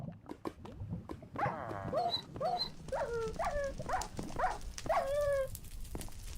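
A dog in Minecraft lets out a quick run of whines and yelps, close and fairly soft, each cry sliding down in pitch over a few seconds.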